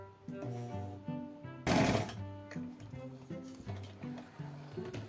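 A sewing machine stitches a seam on a cloth doll's sunbonnet, its fast rhythmic mechanical whir running steadily throughout, loud and close, with one brief louder rushing burst in the middle.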